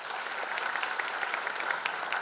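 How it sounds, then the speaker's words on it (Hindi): An audience applauds the musicians of a band at an awards event, producing a continuous, even wash of clapping that sounds somewhat distant, with no voices on top. "उनके लिए एक बार और जोरदार तालियां."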